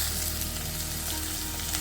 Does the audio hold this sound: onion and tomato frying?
yes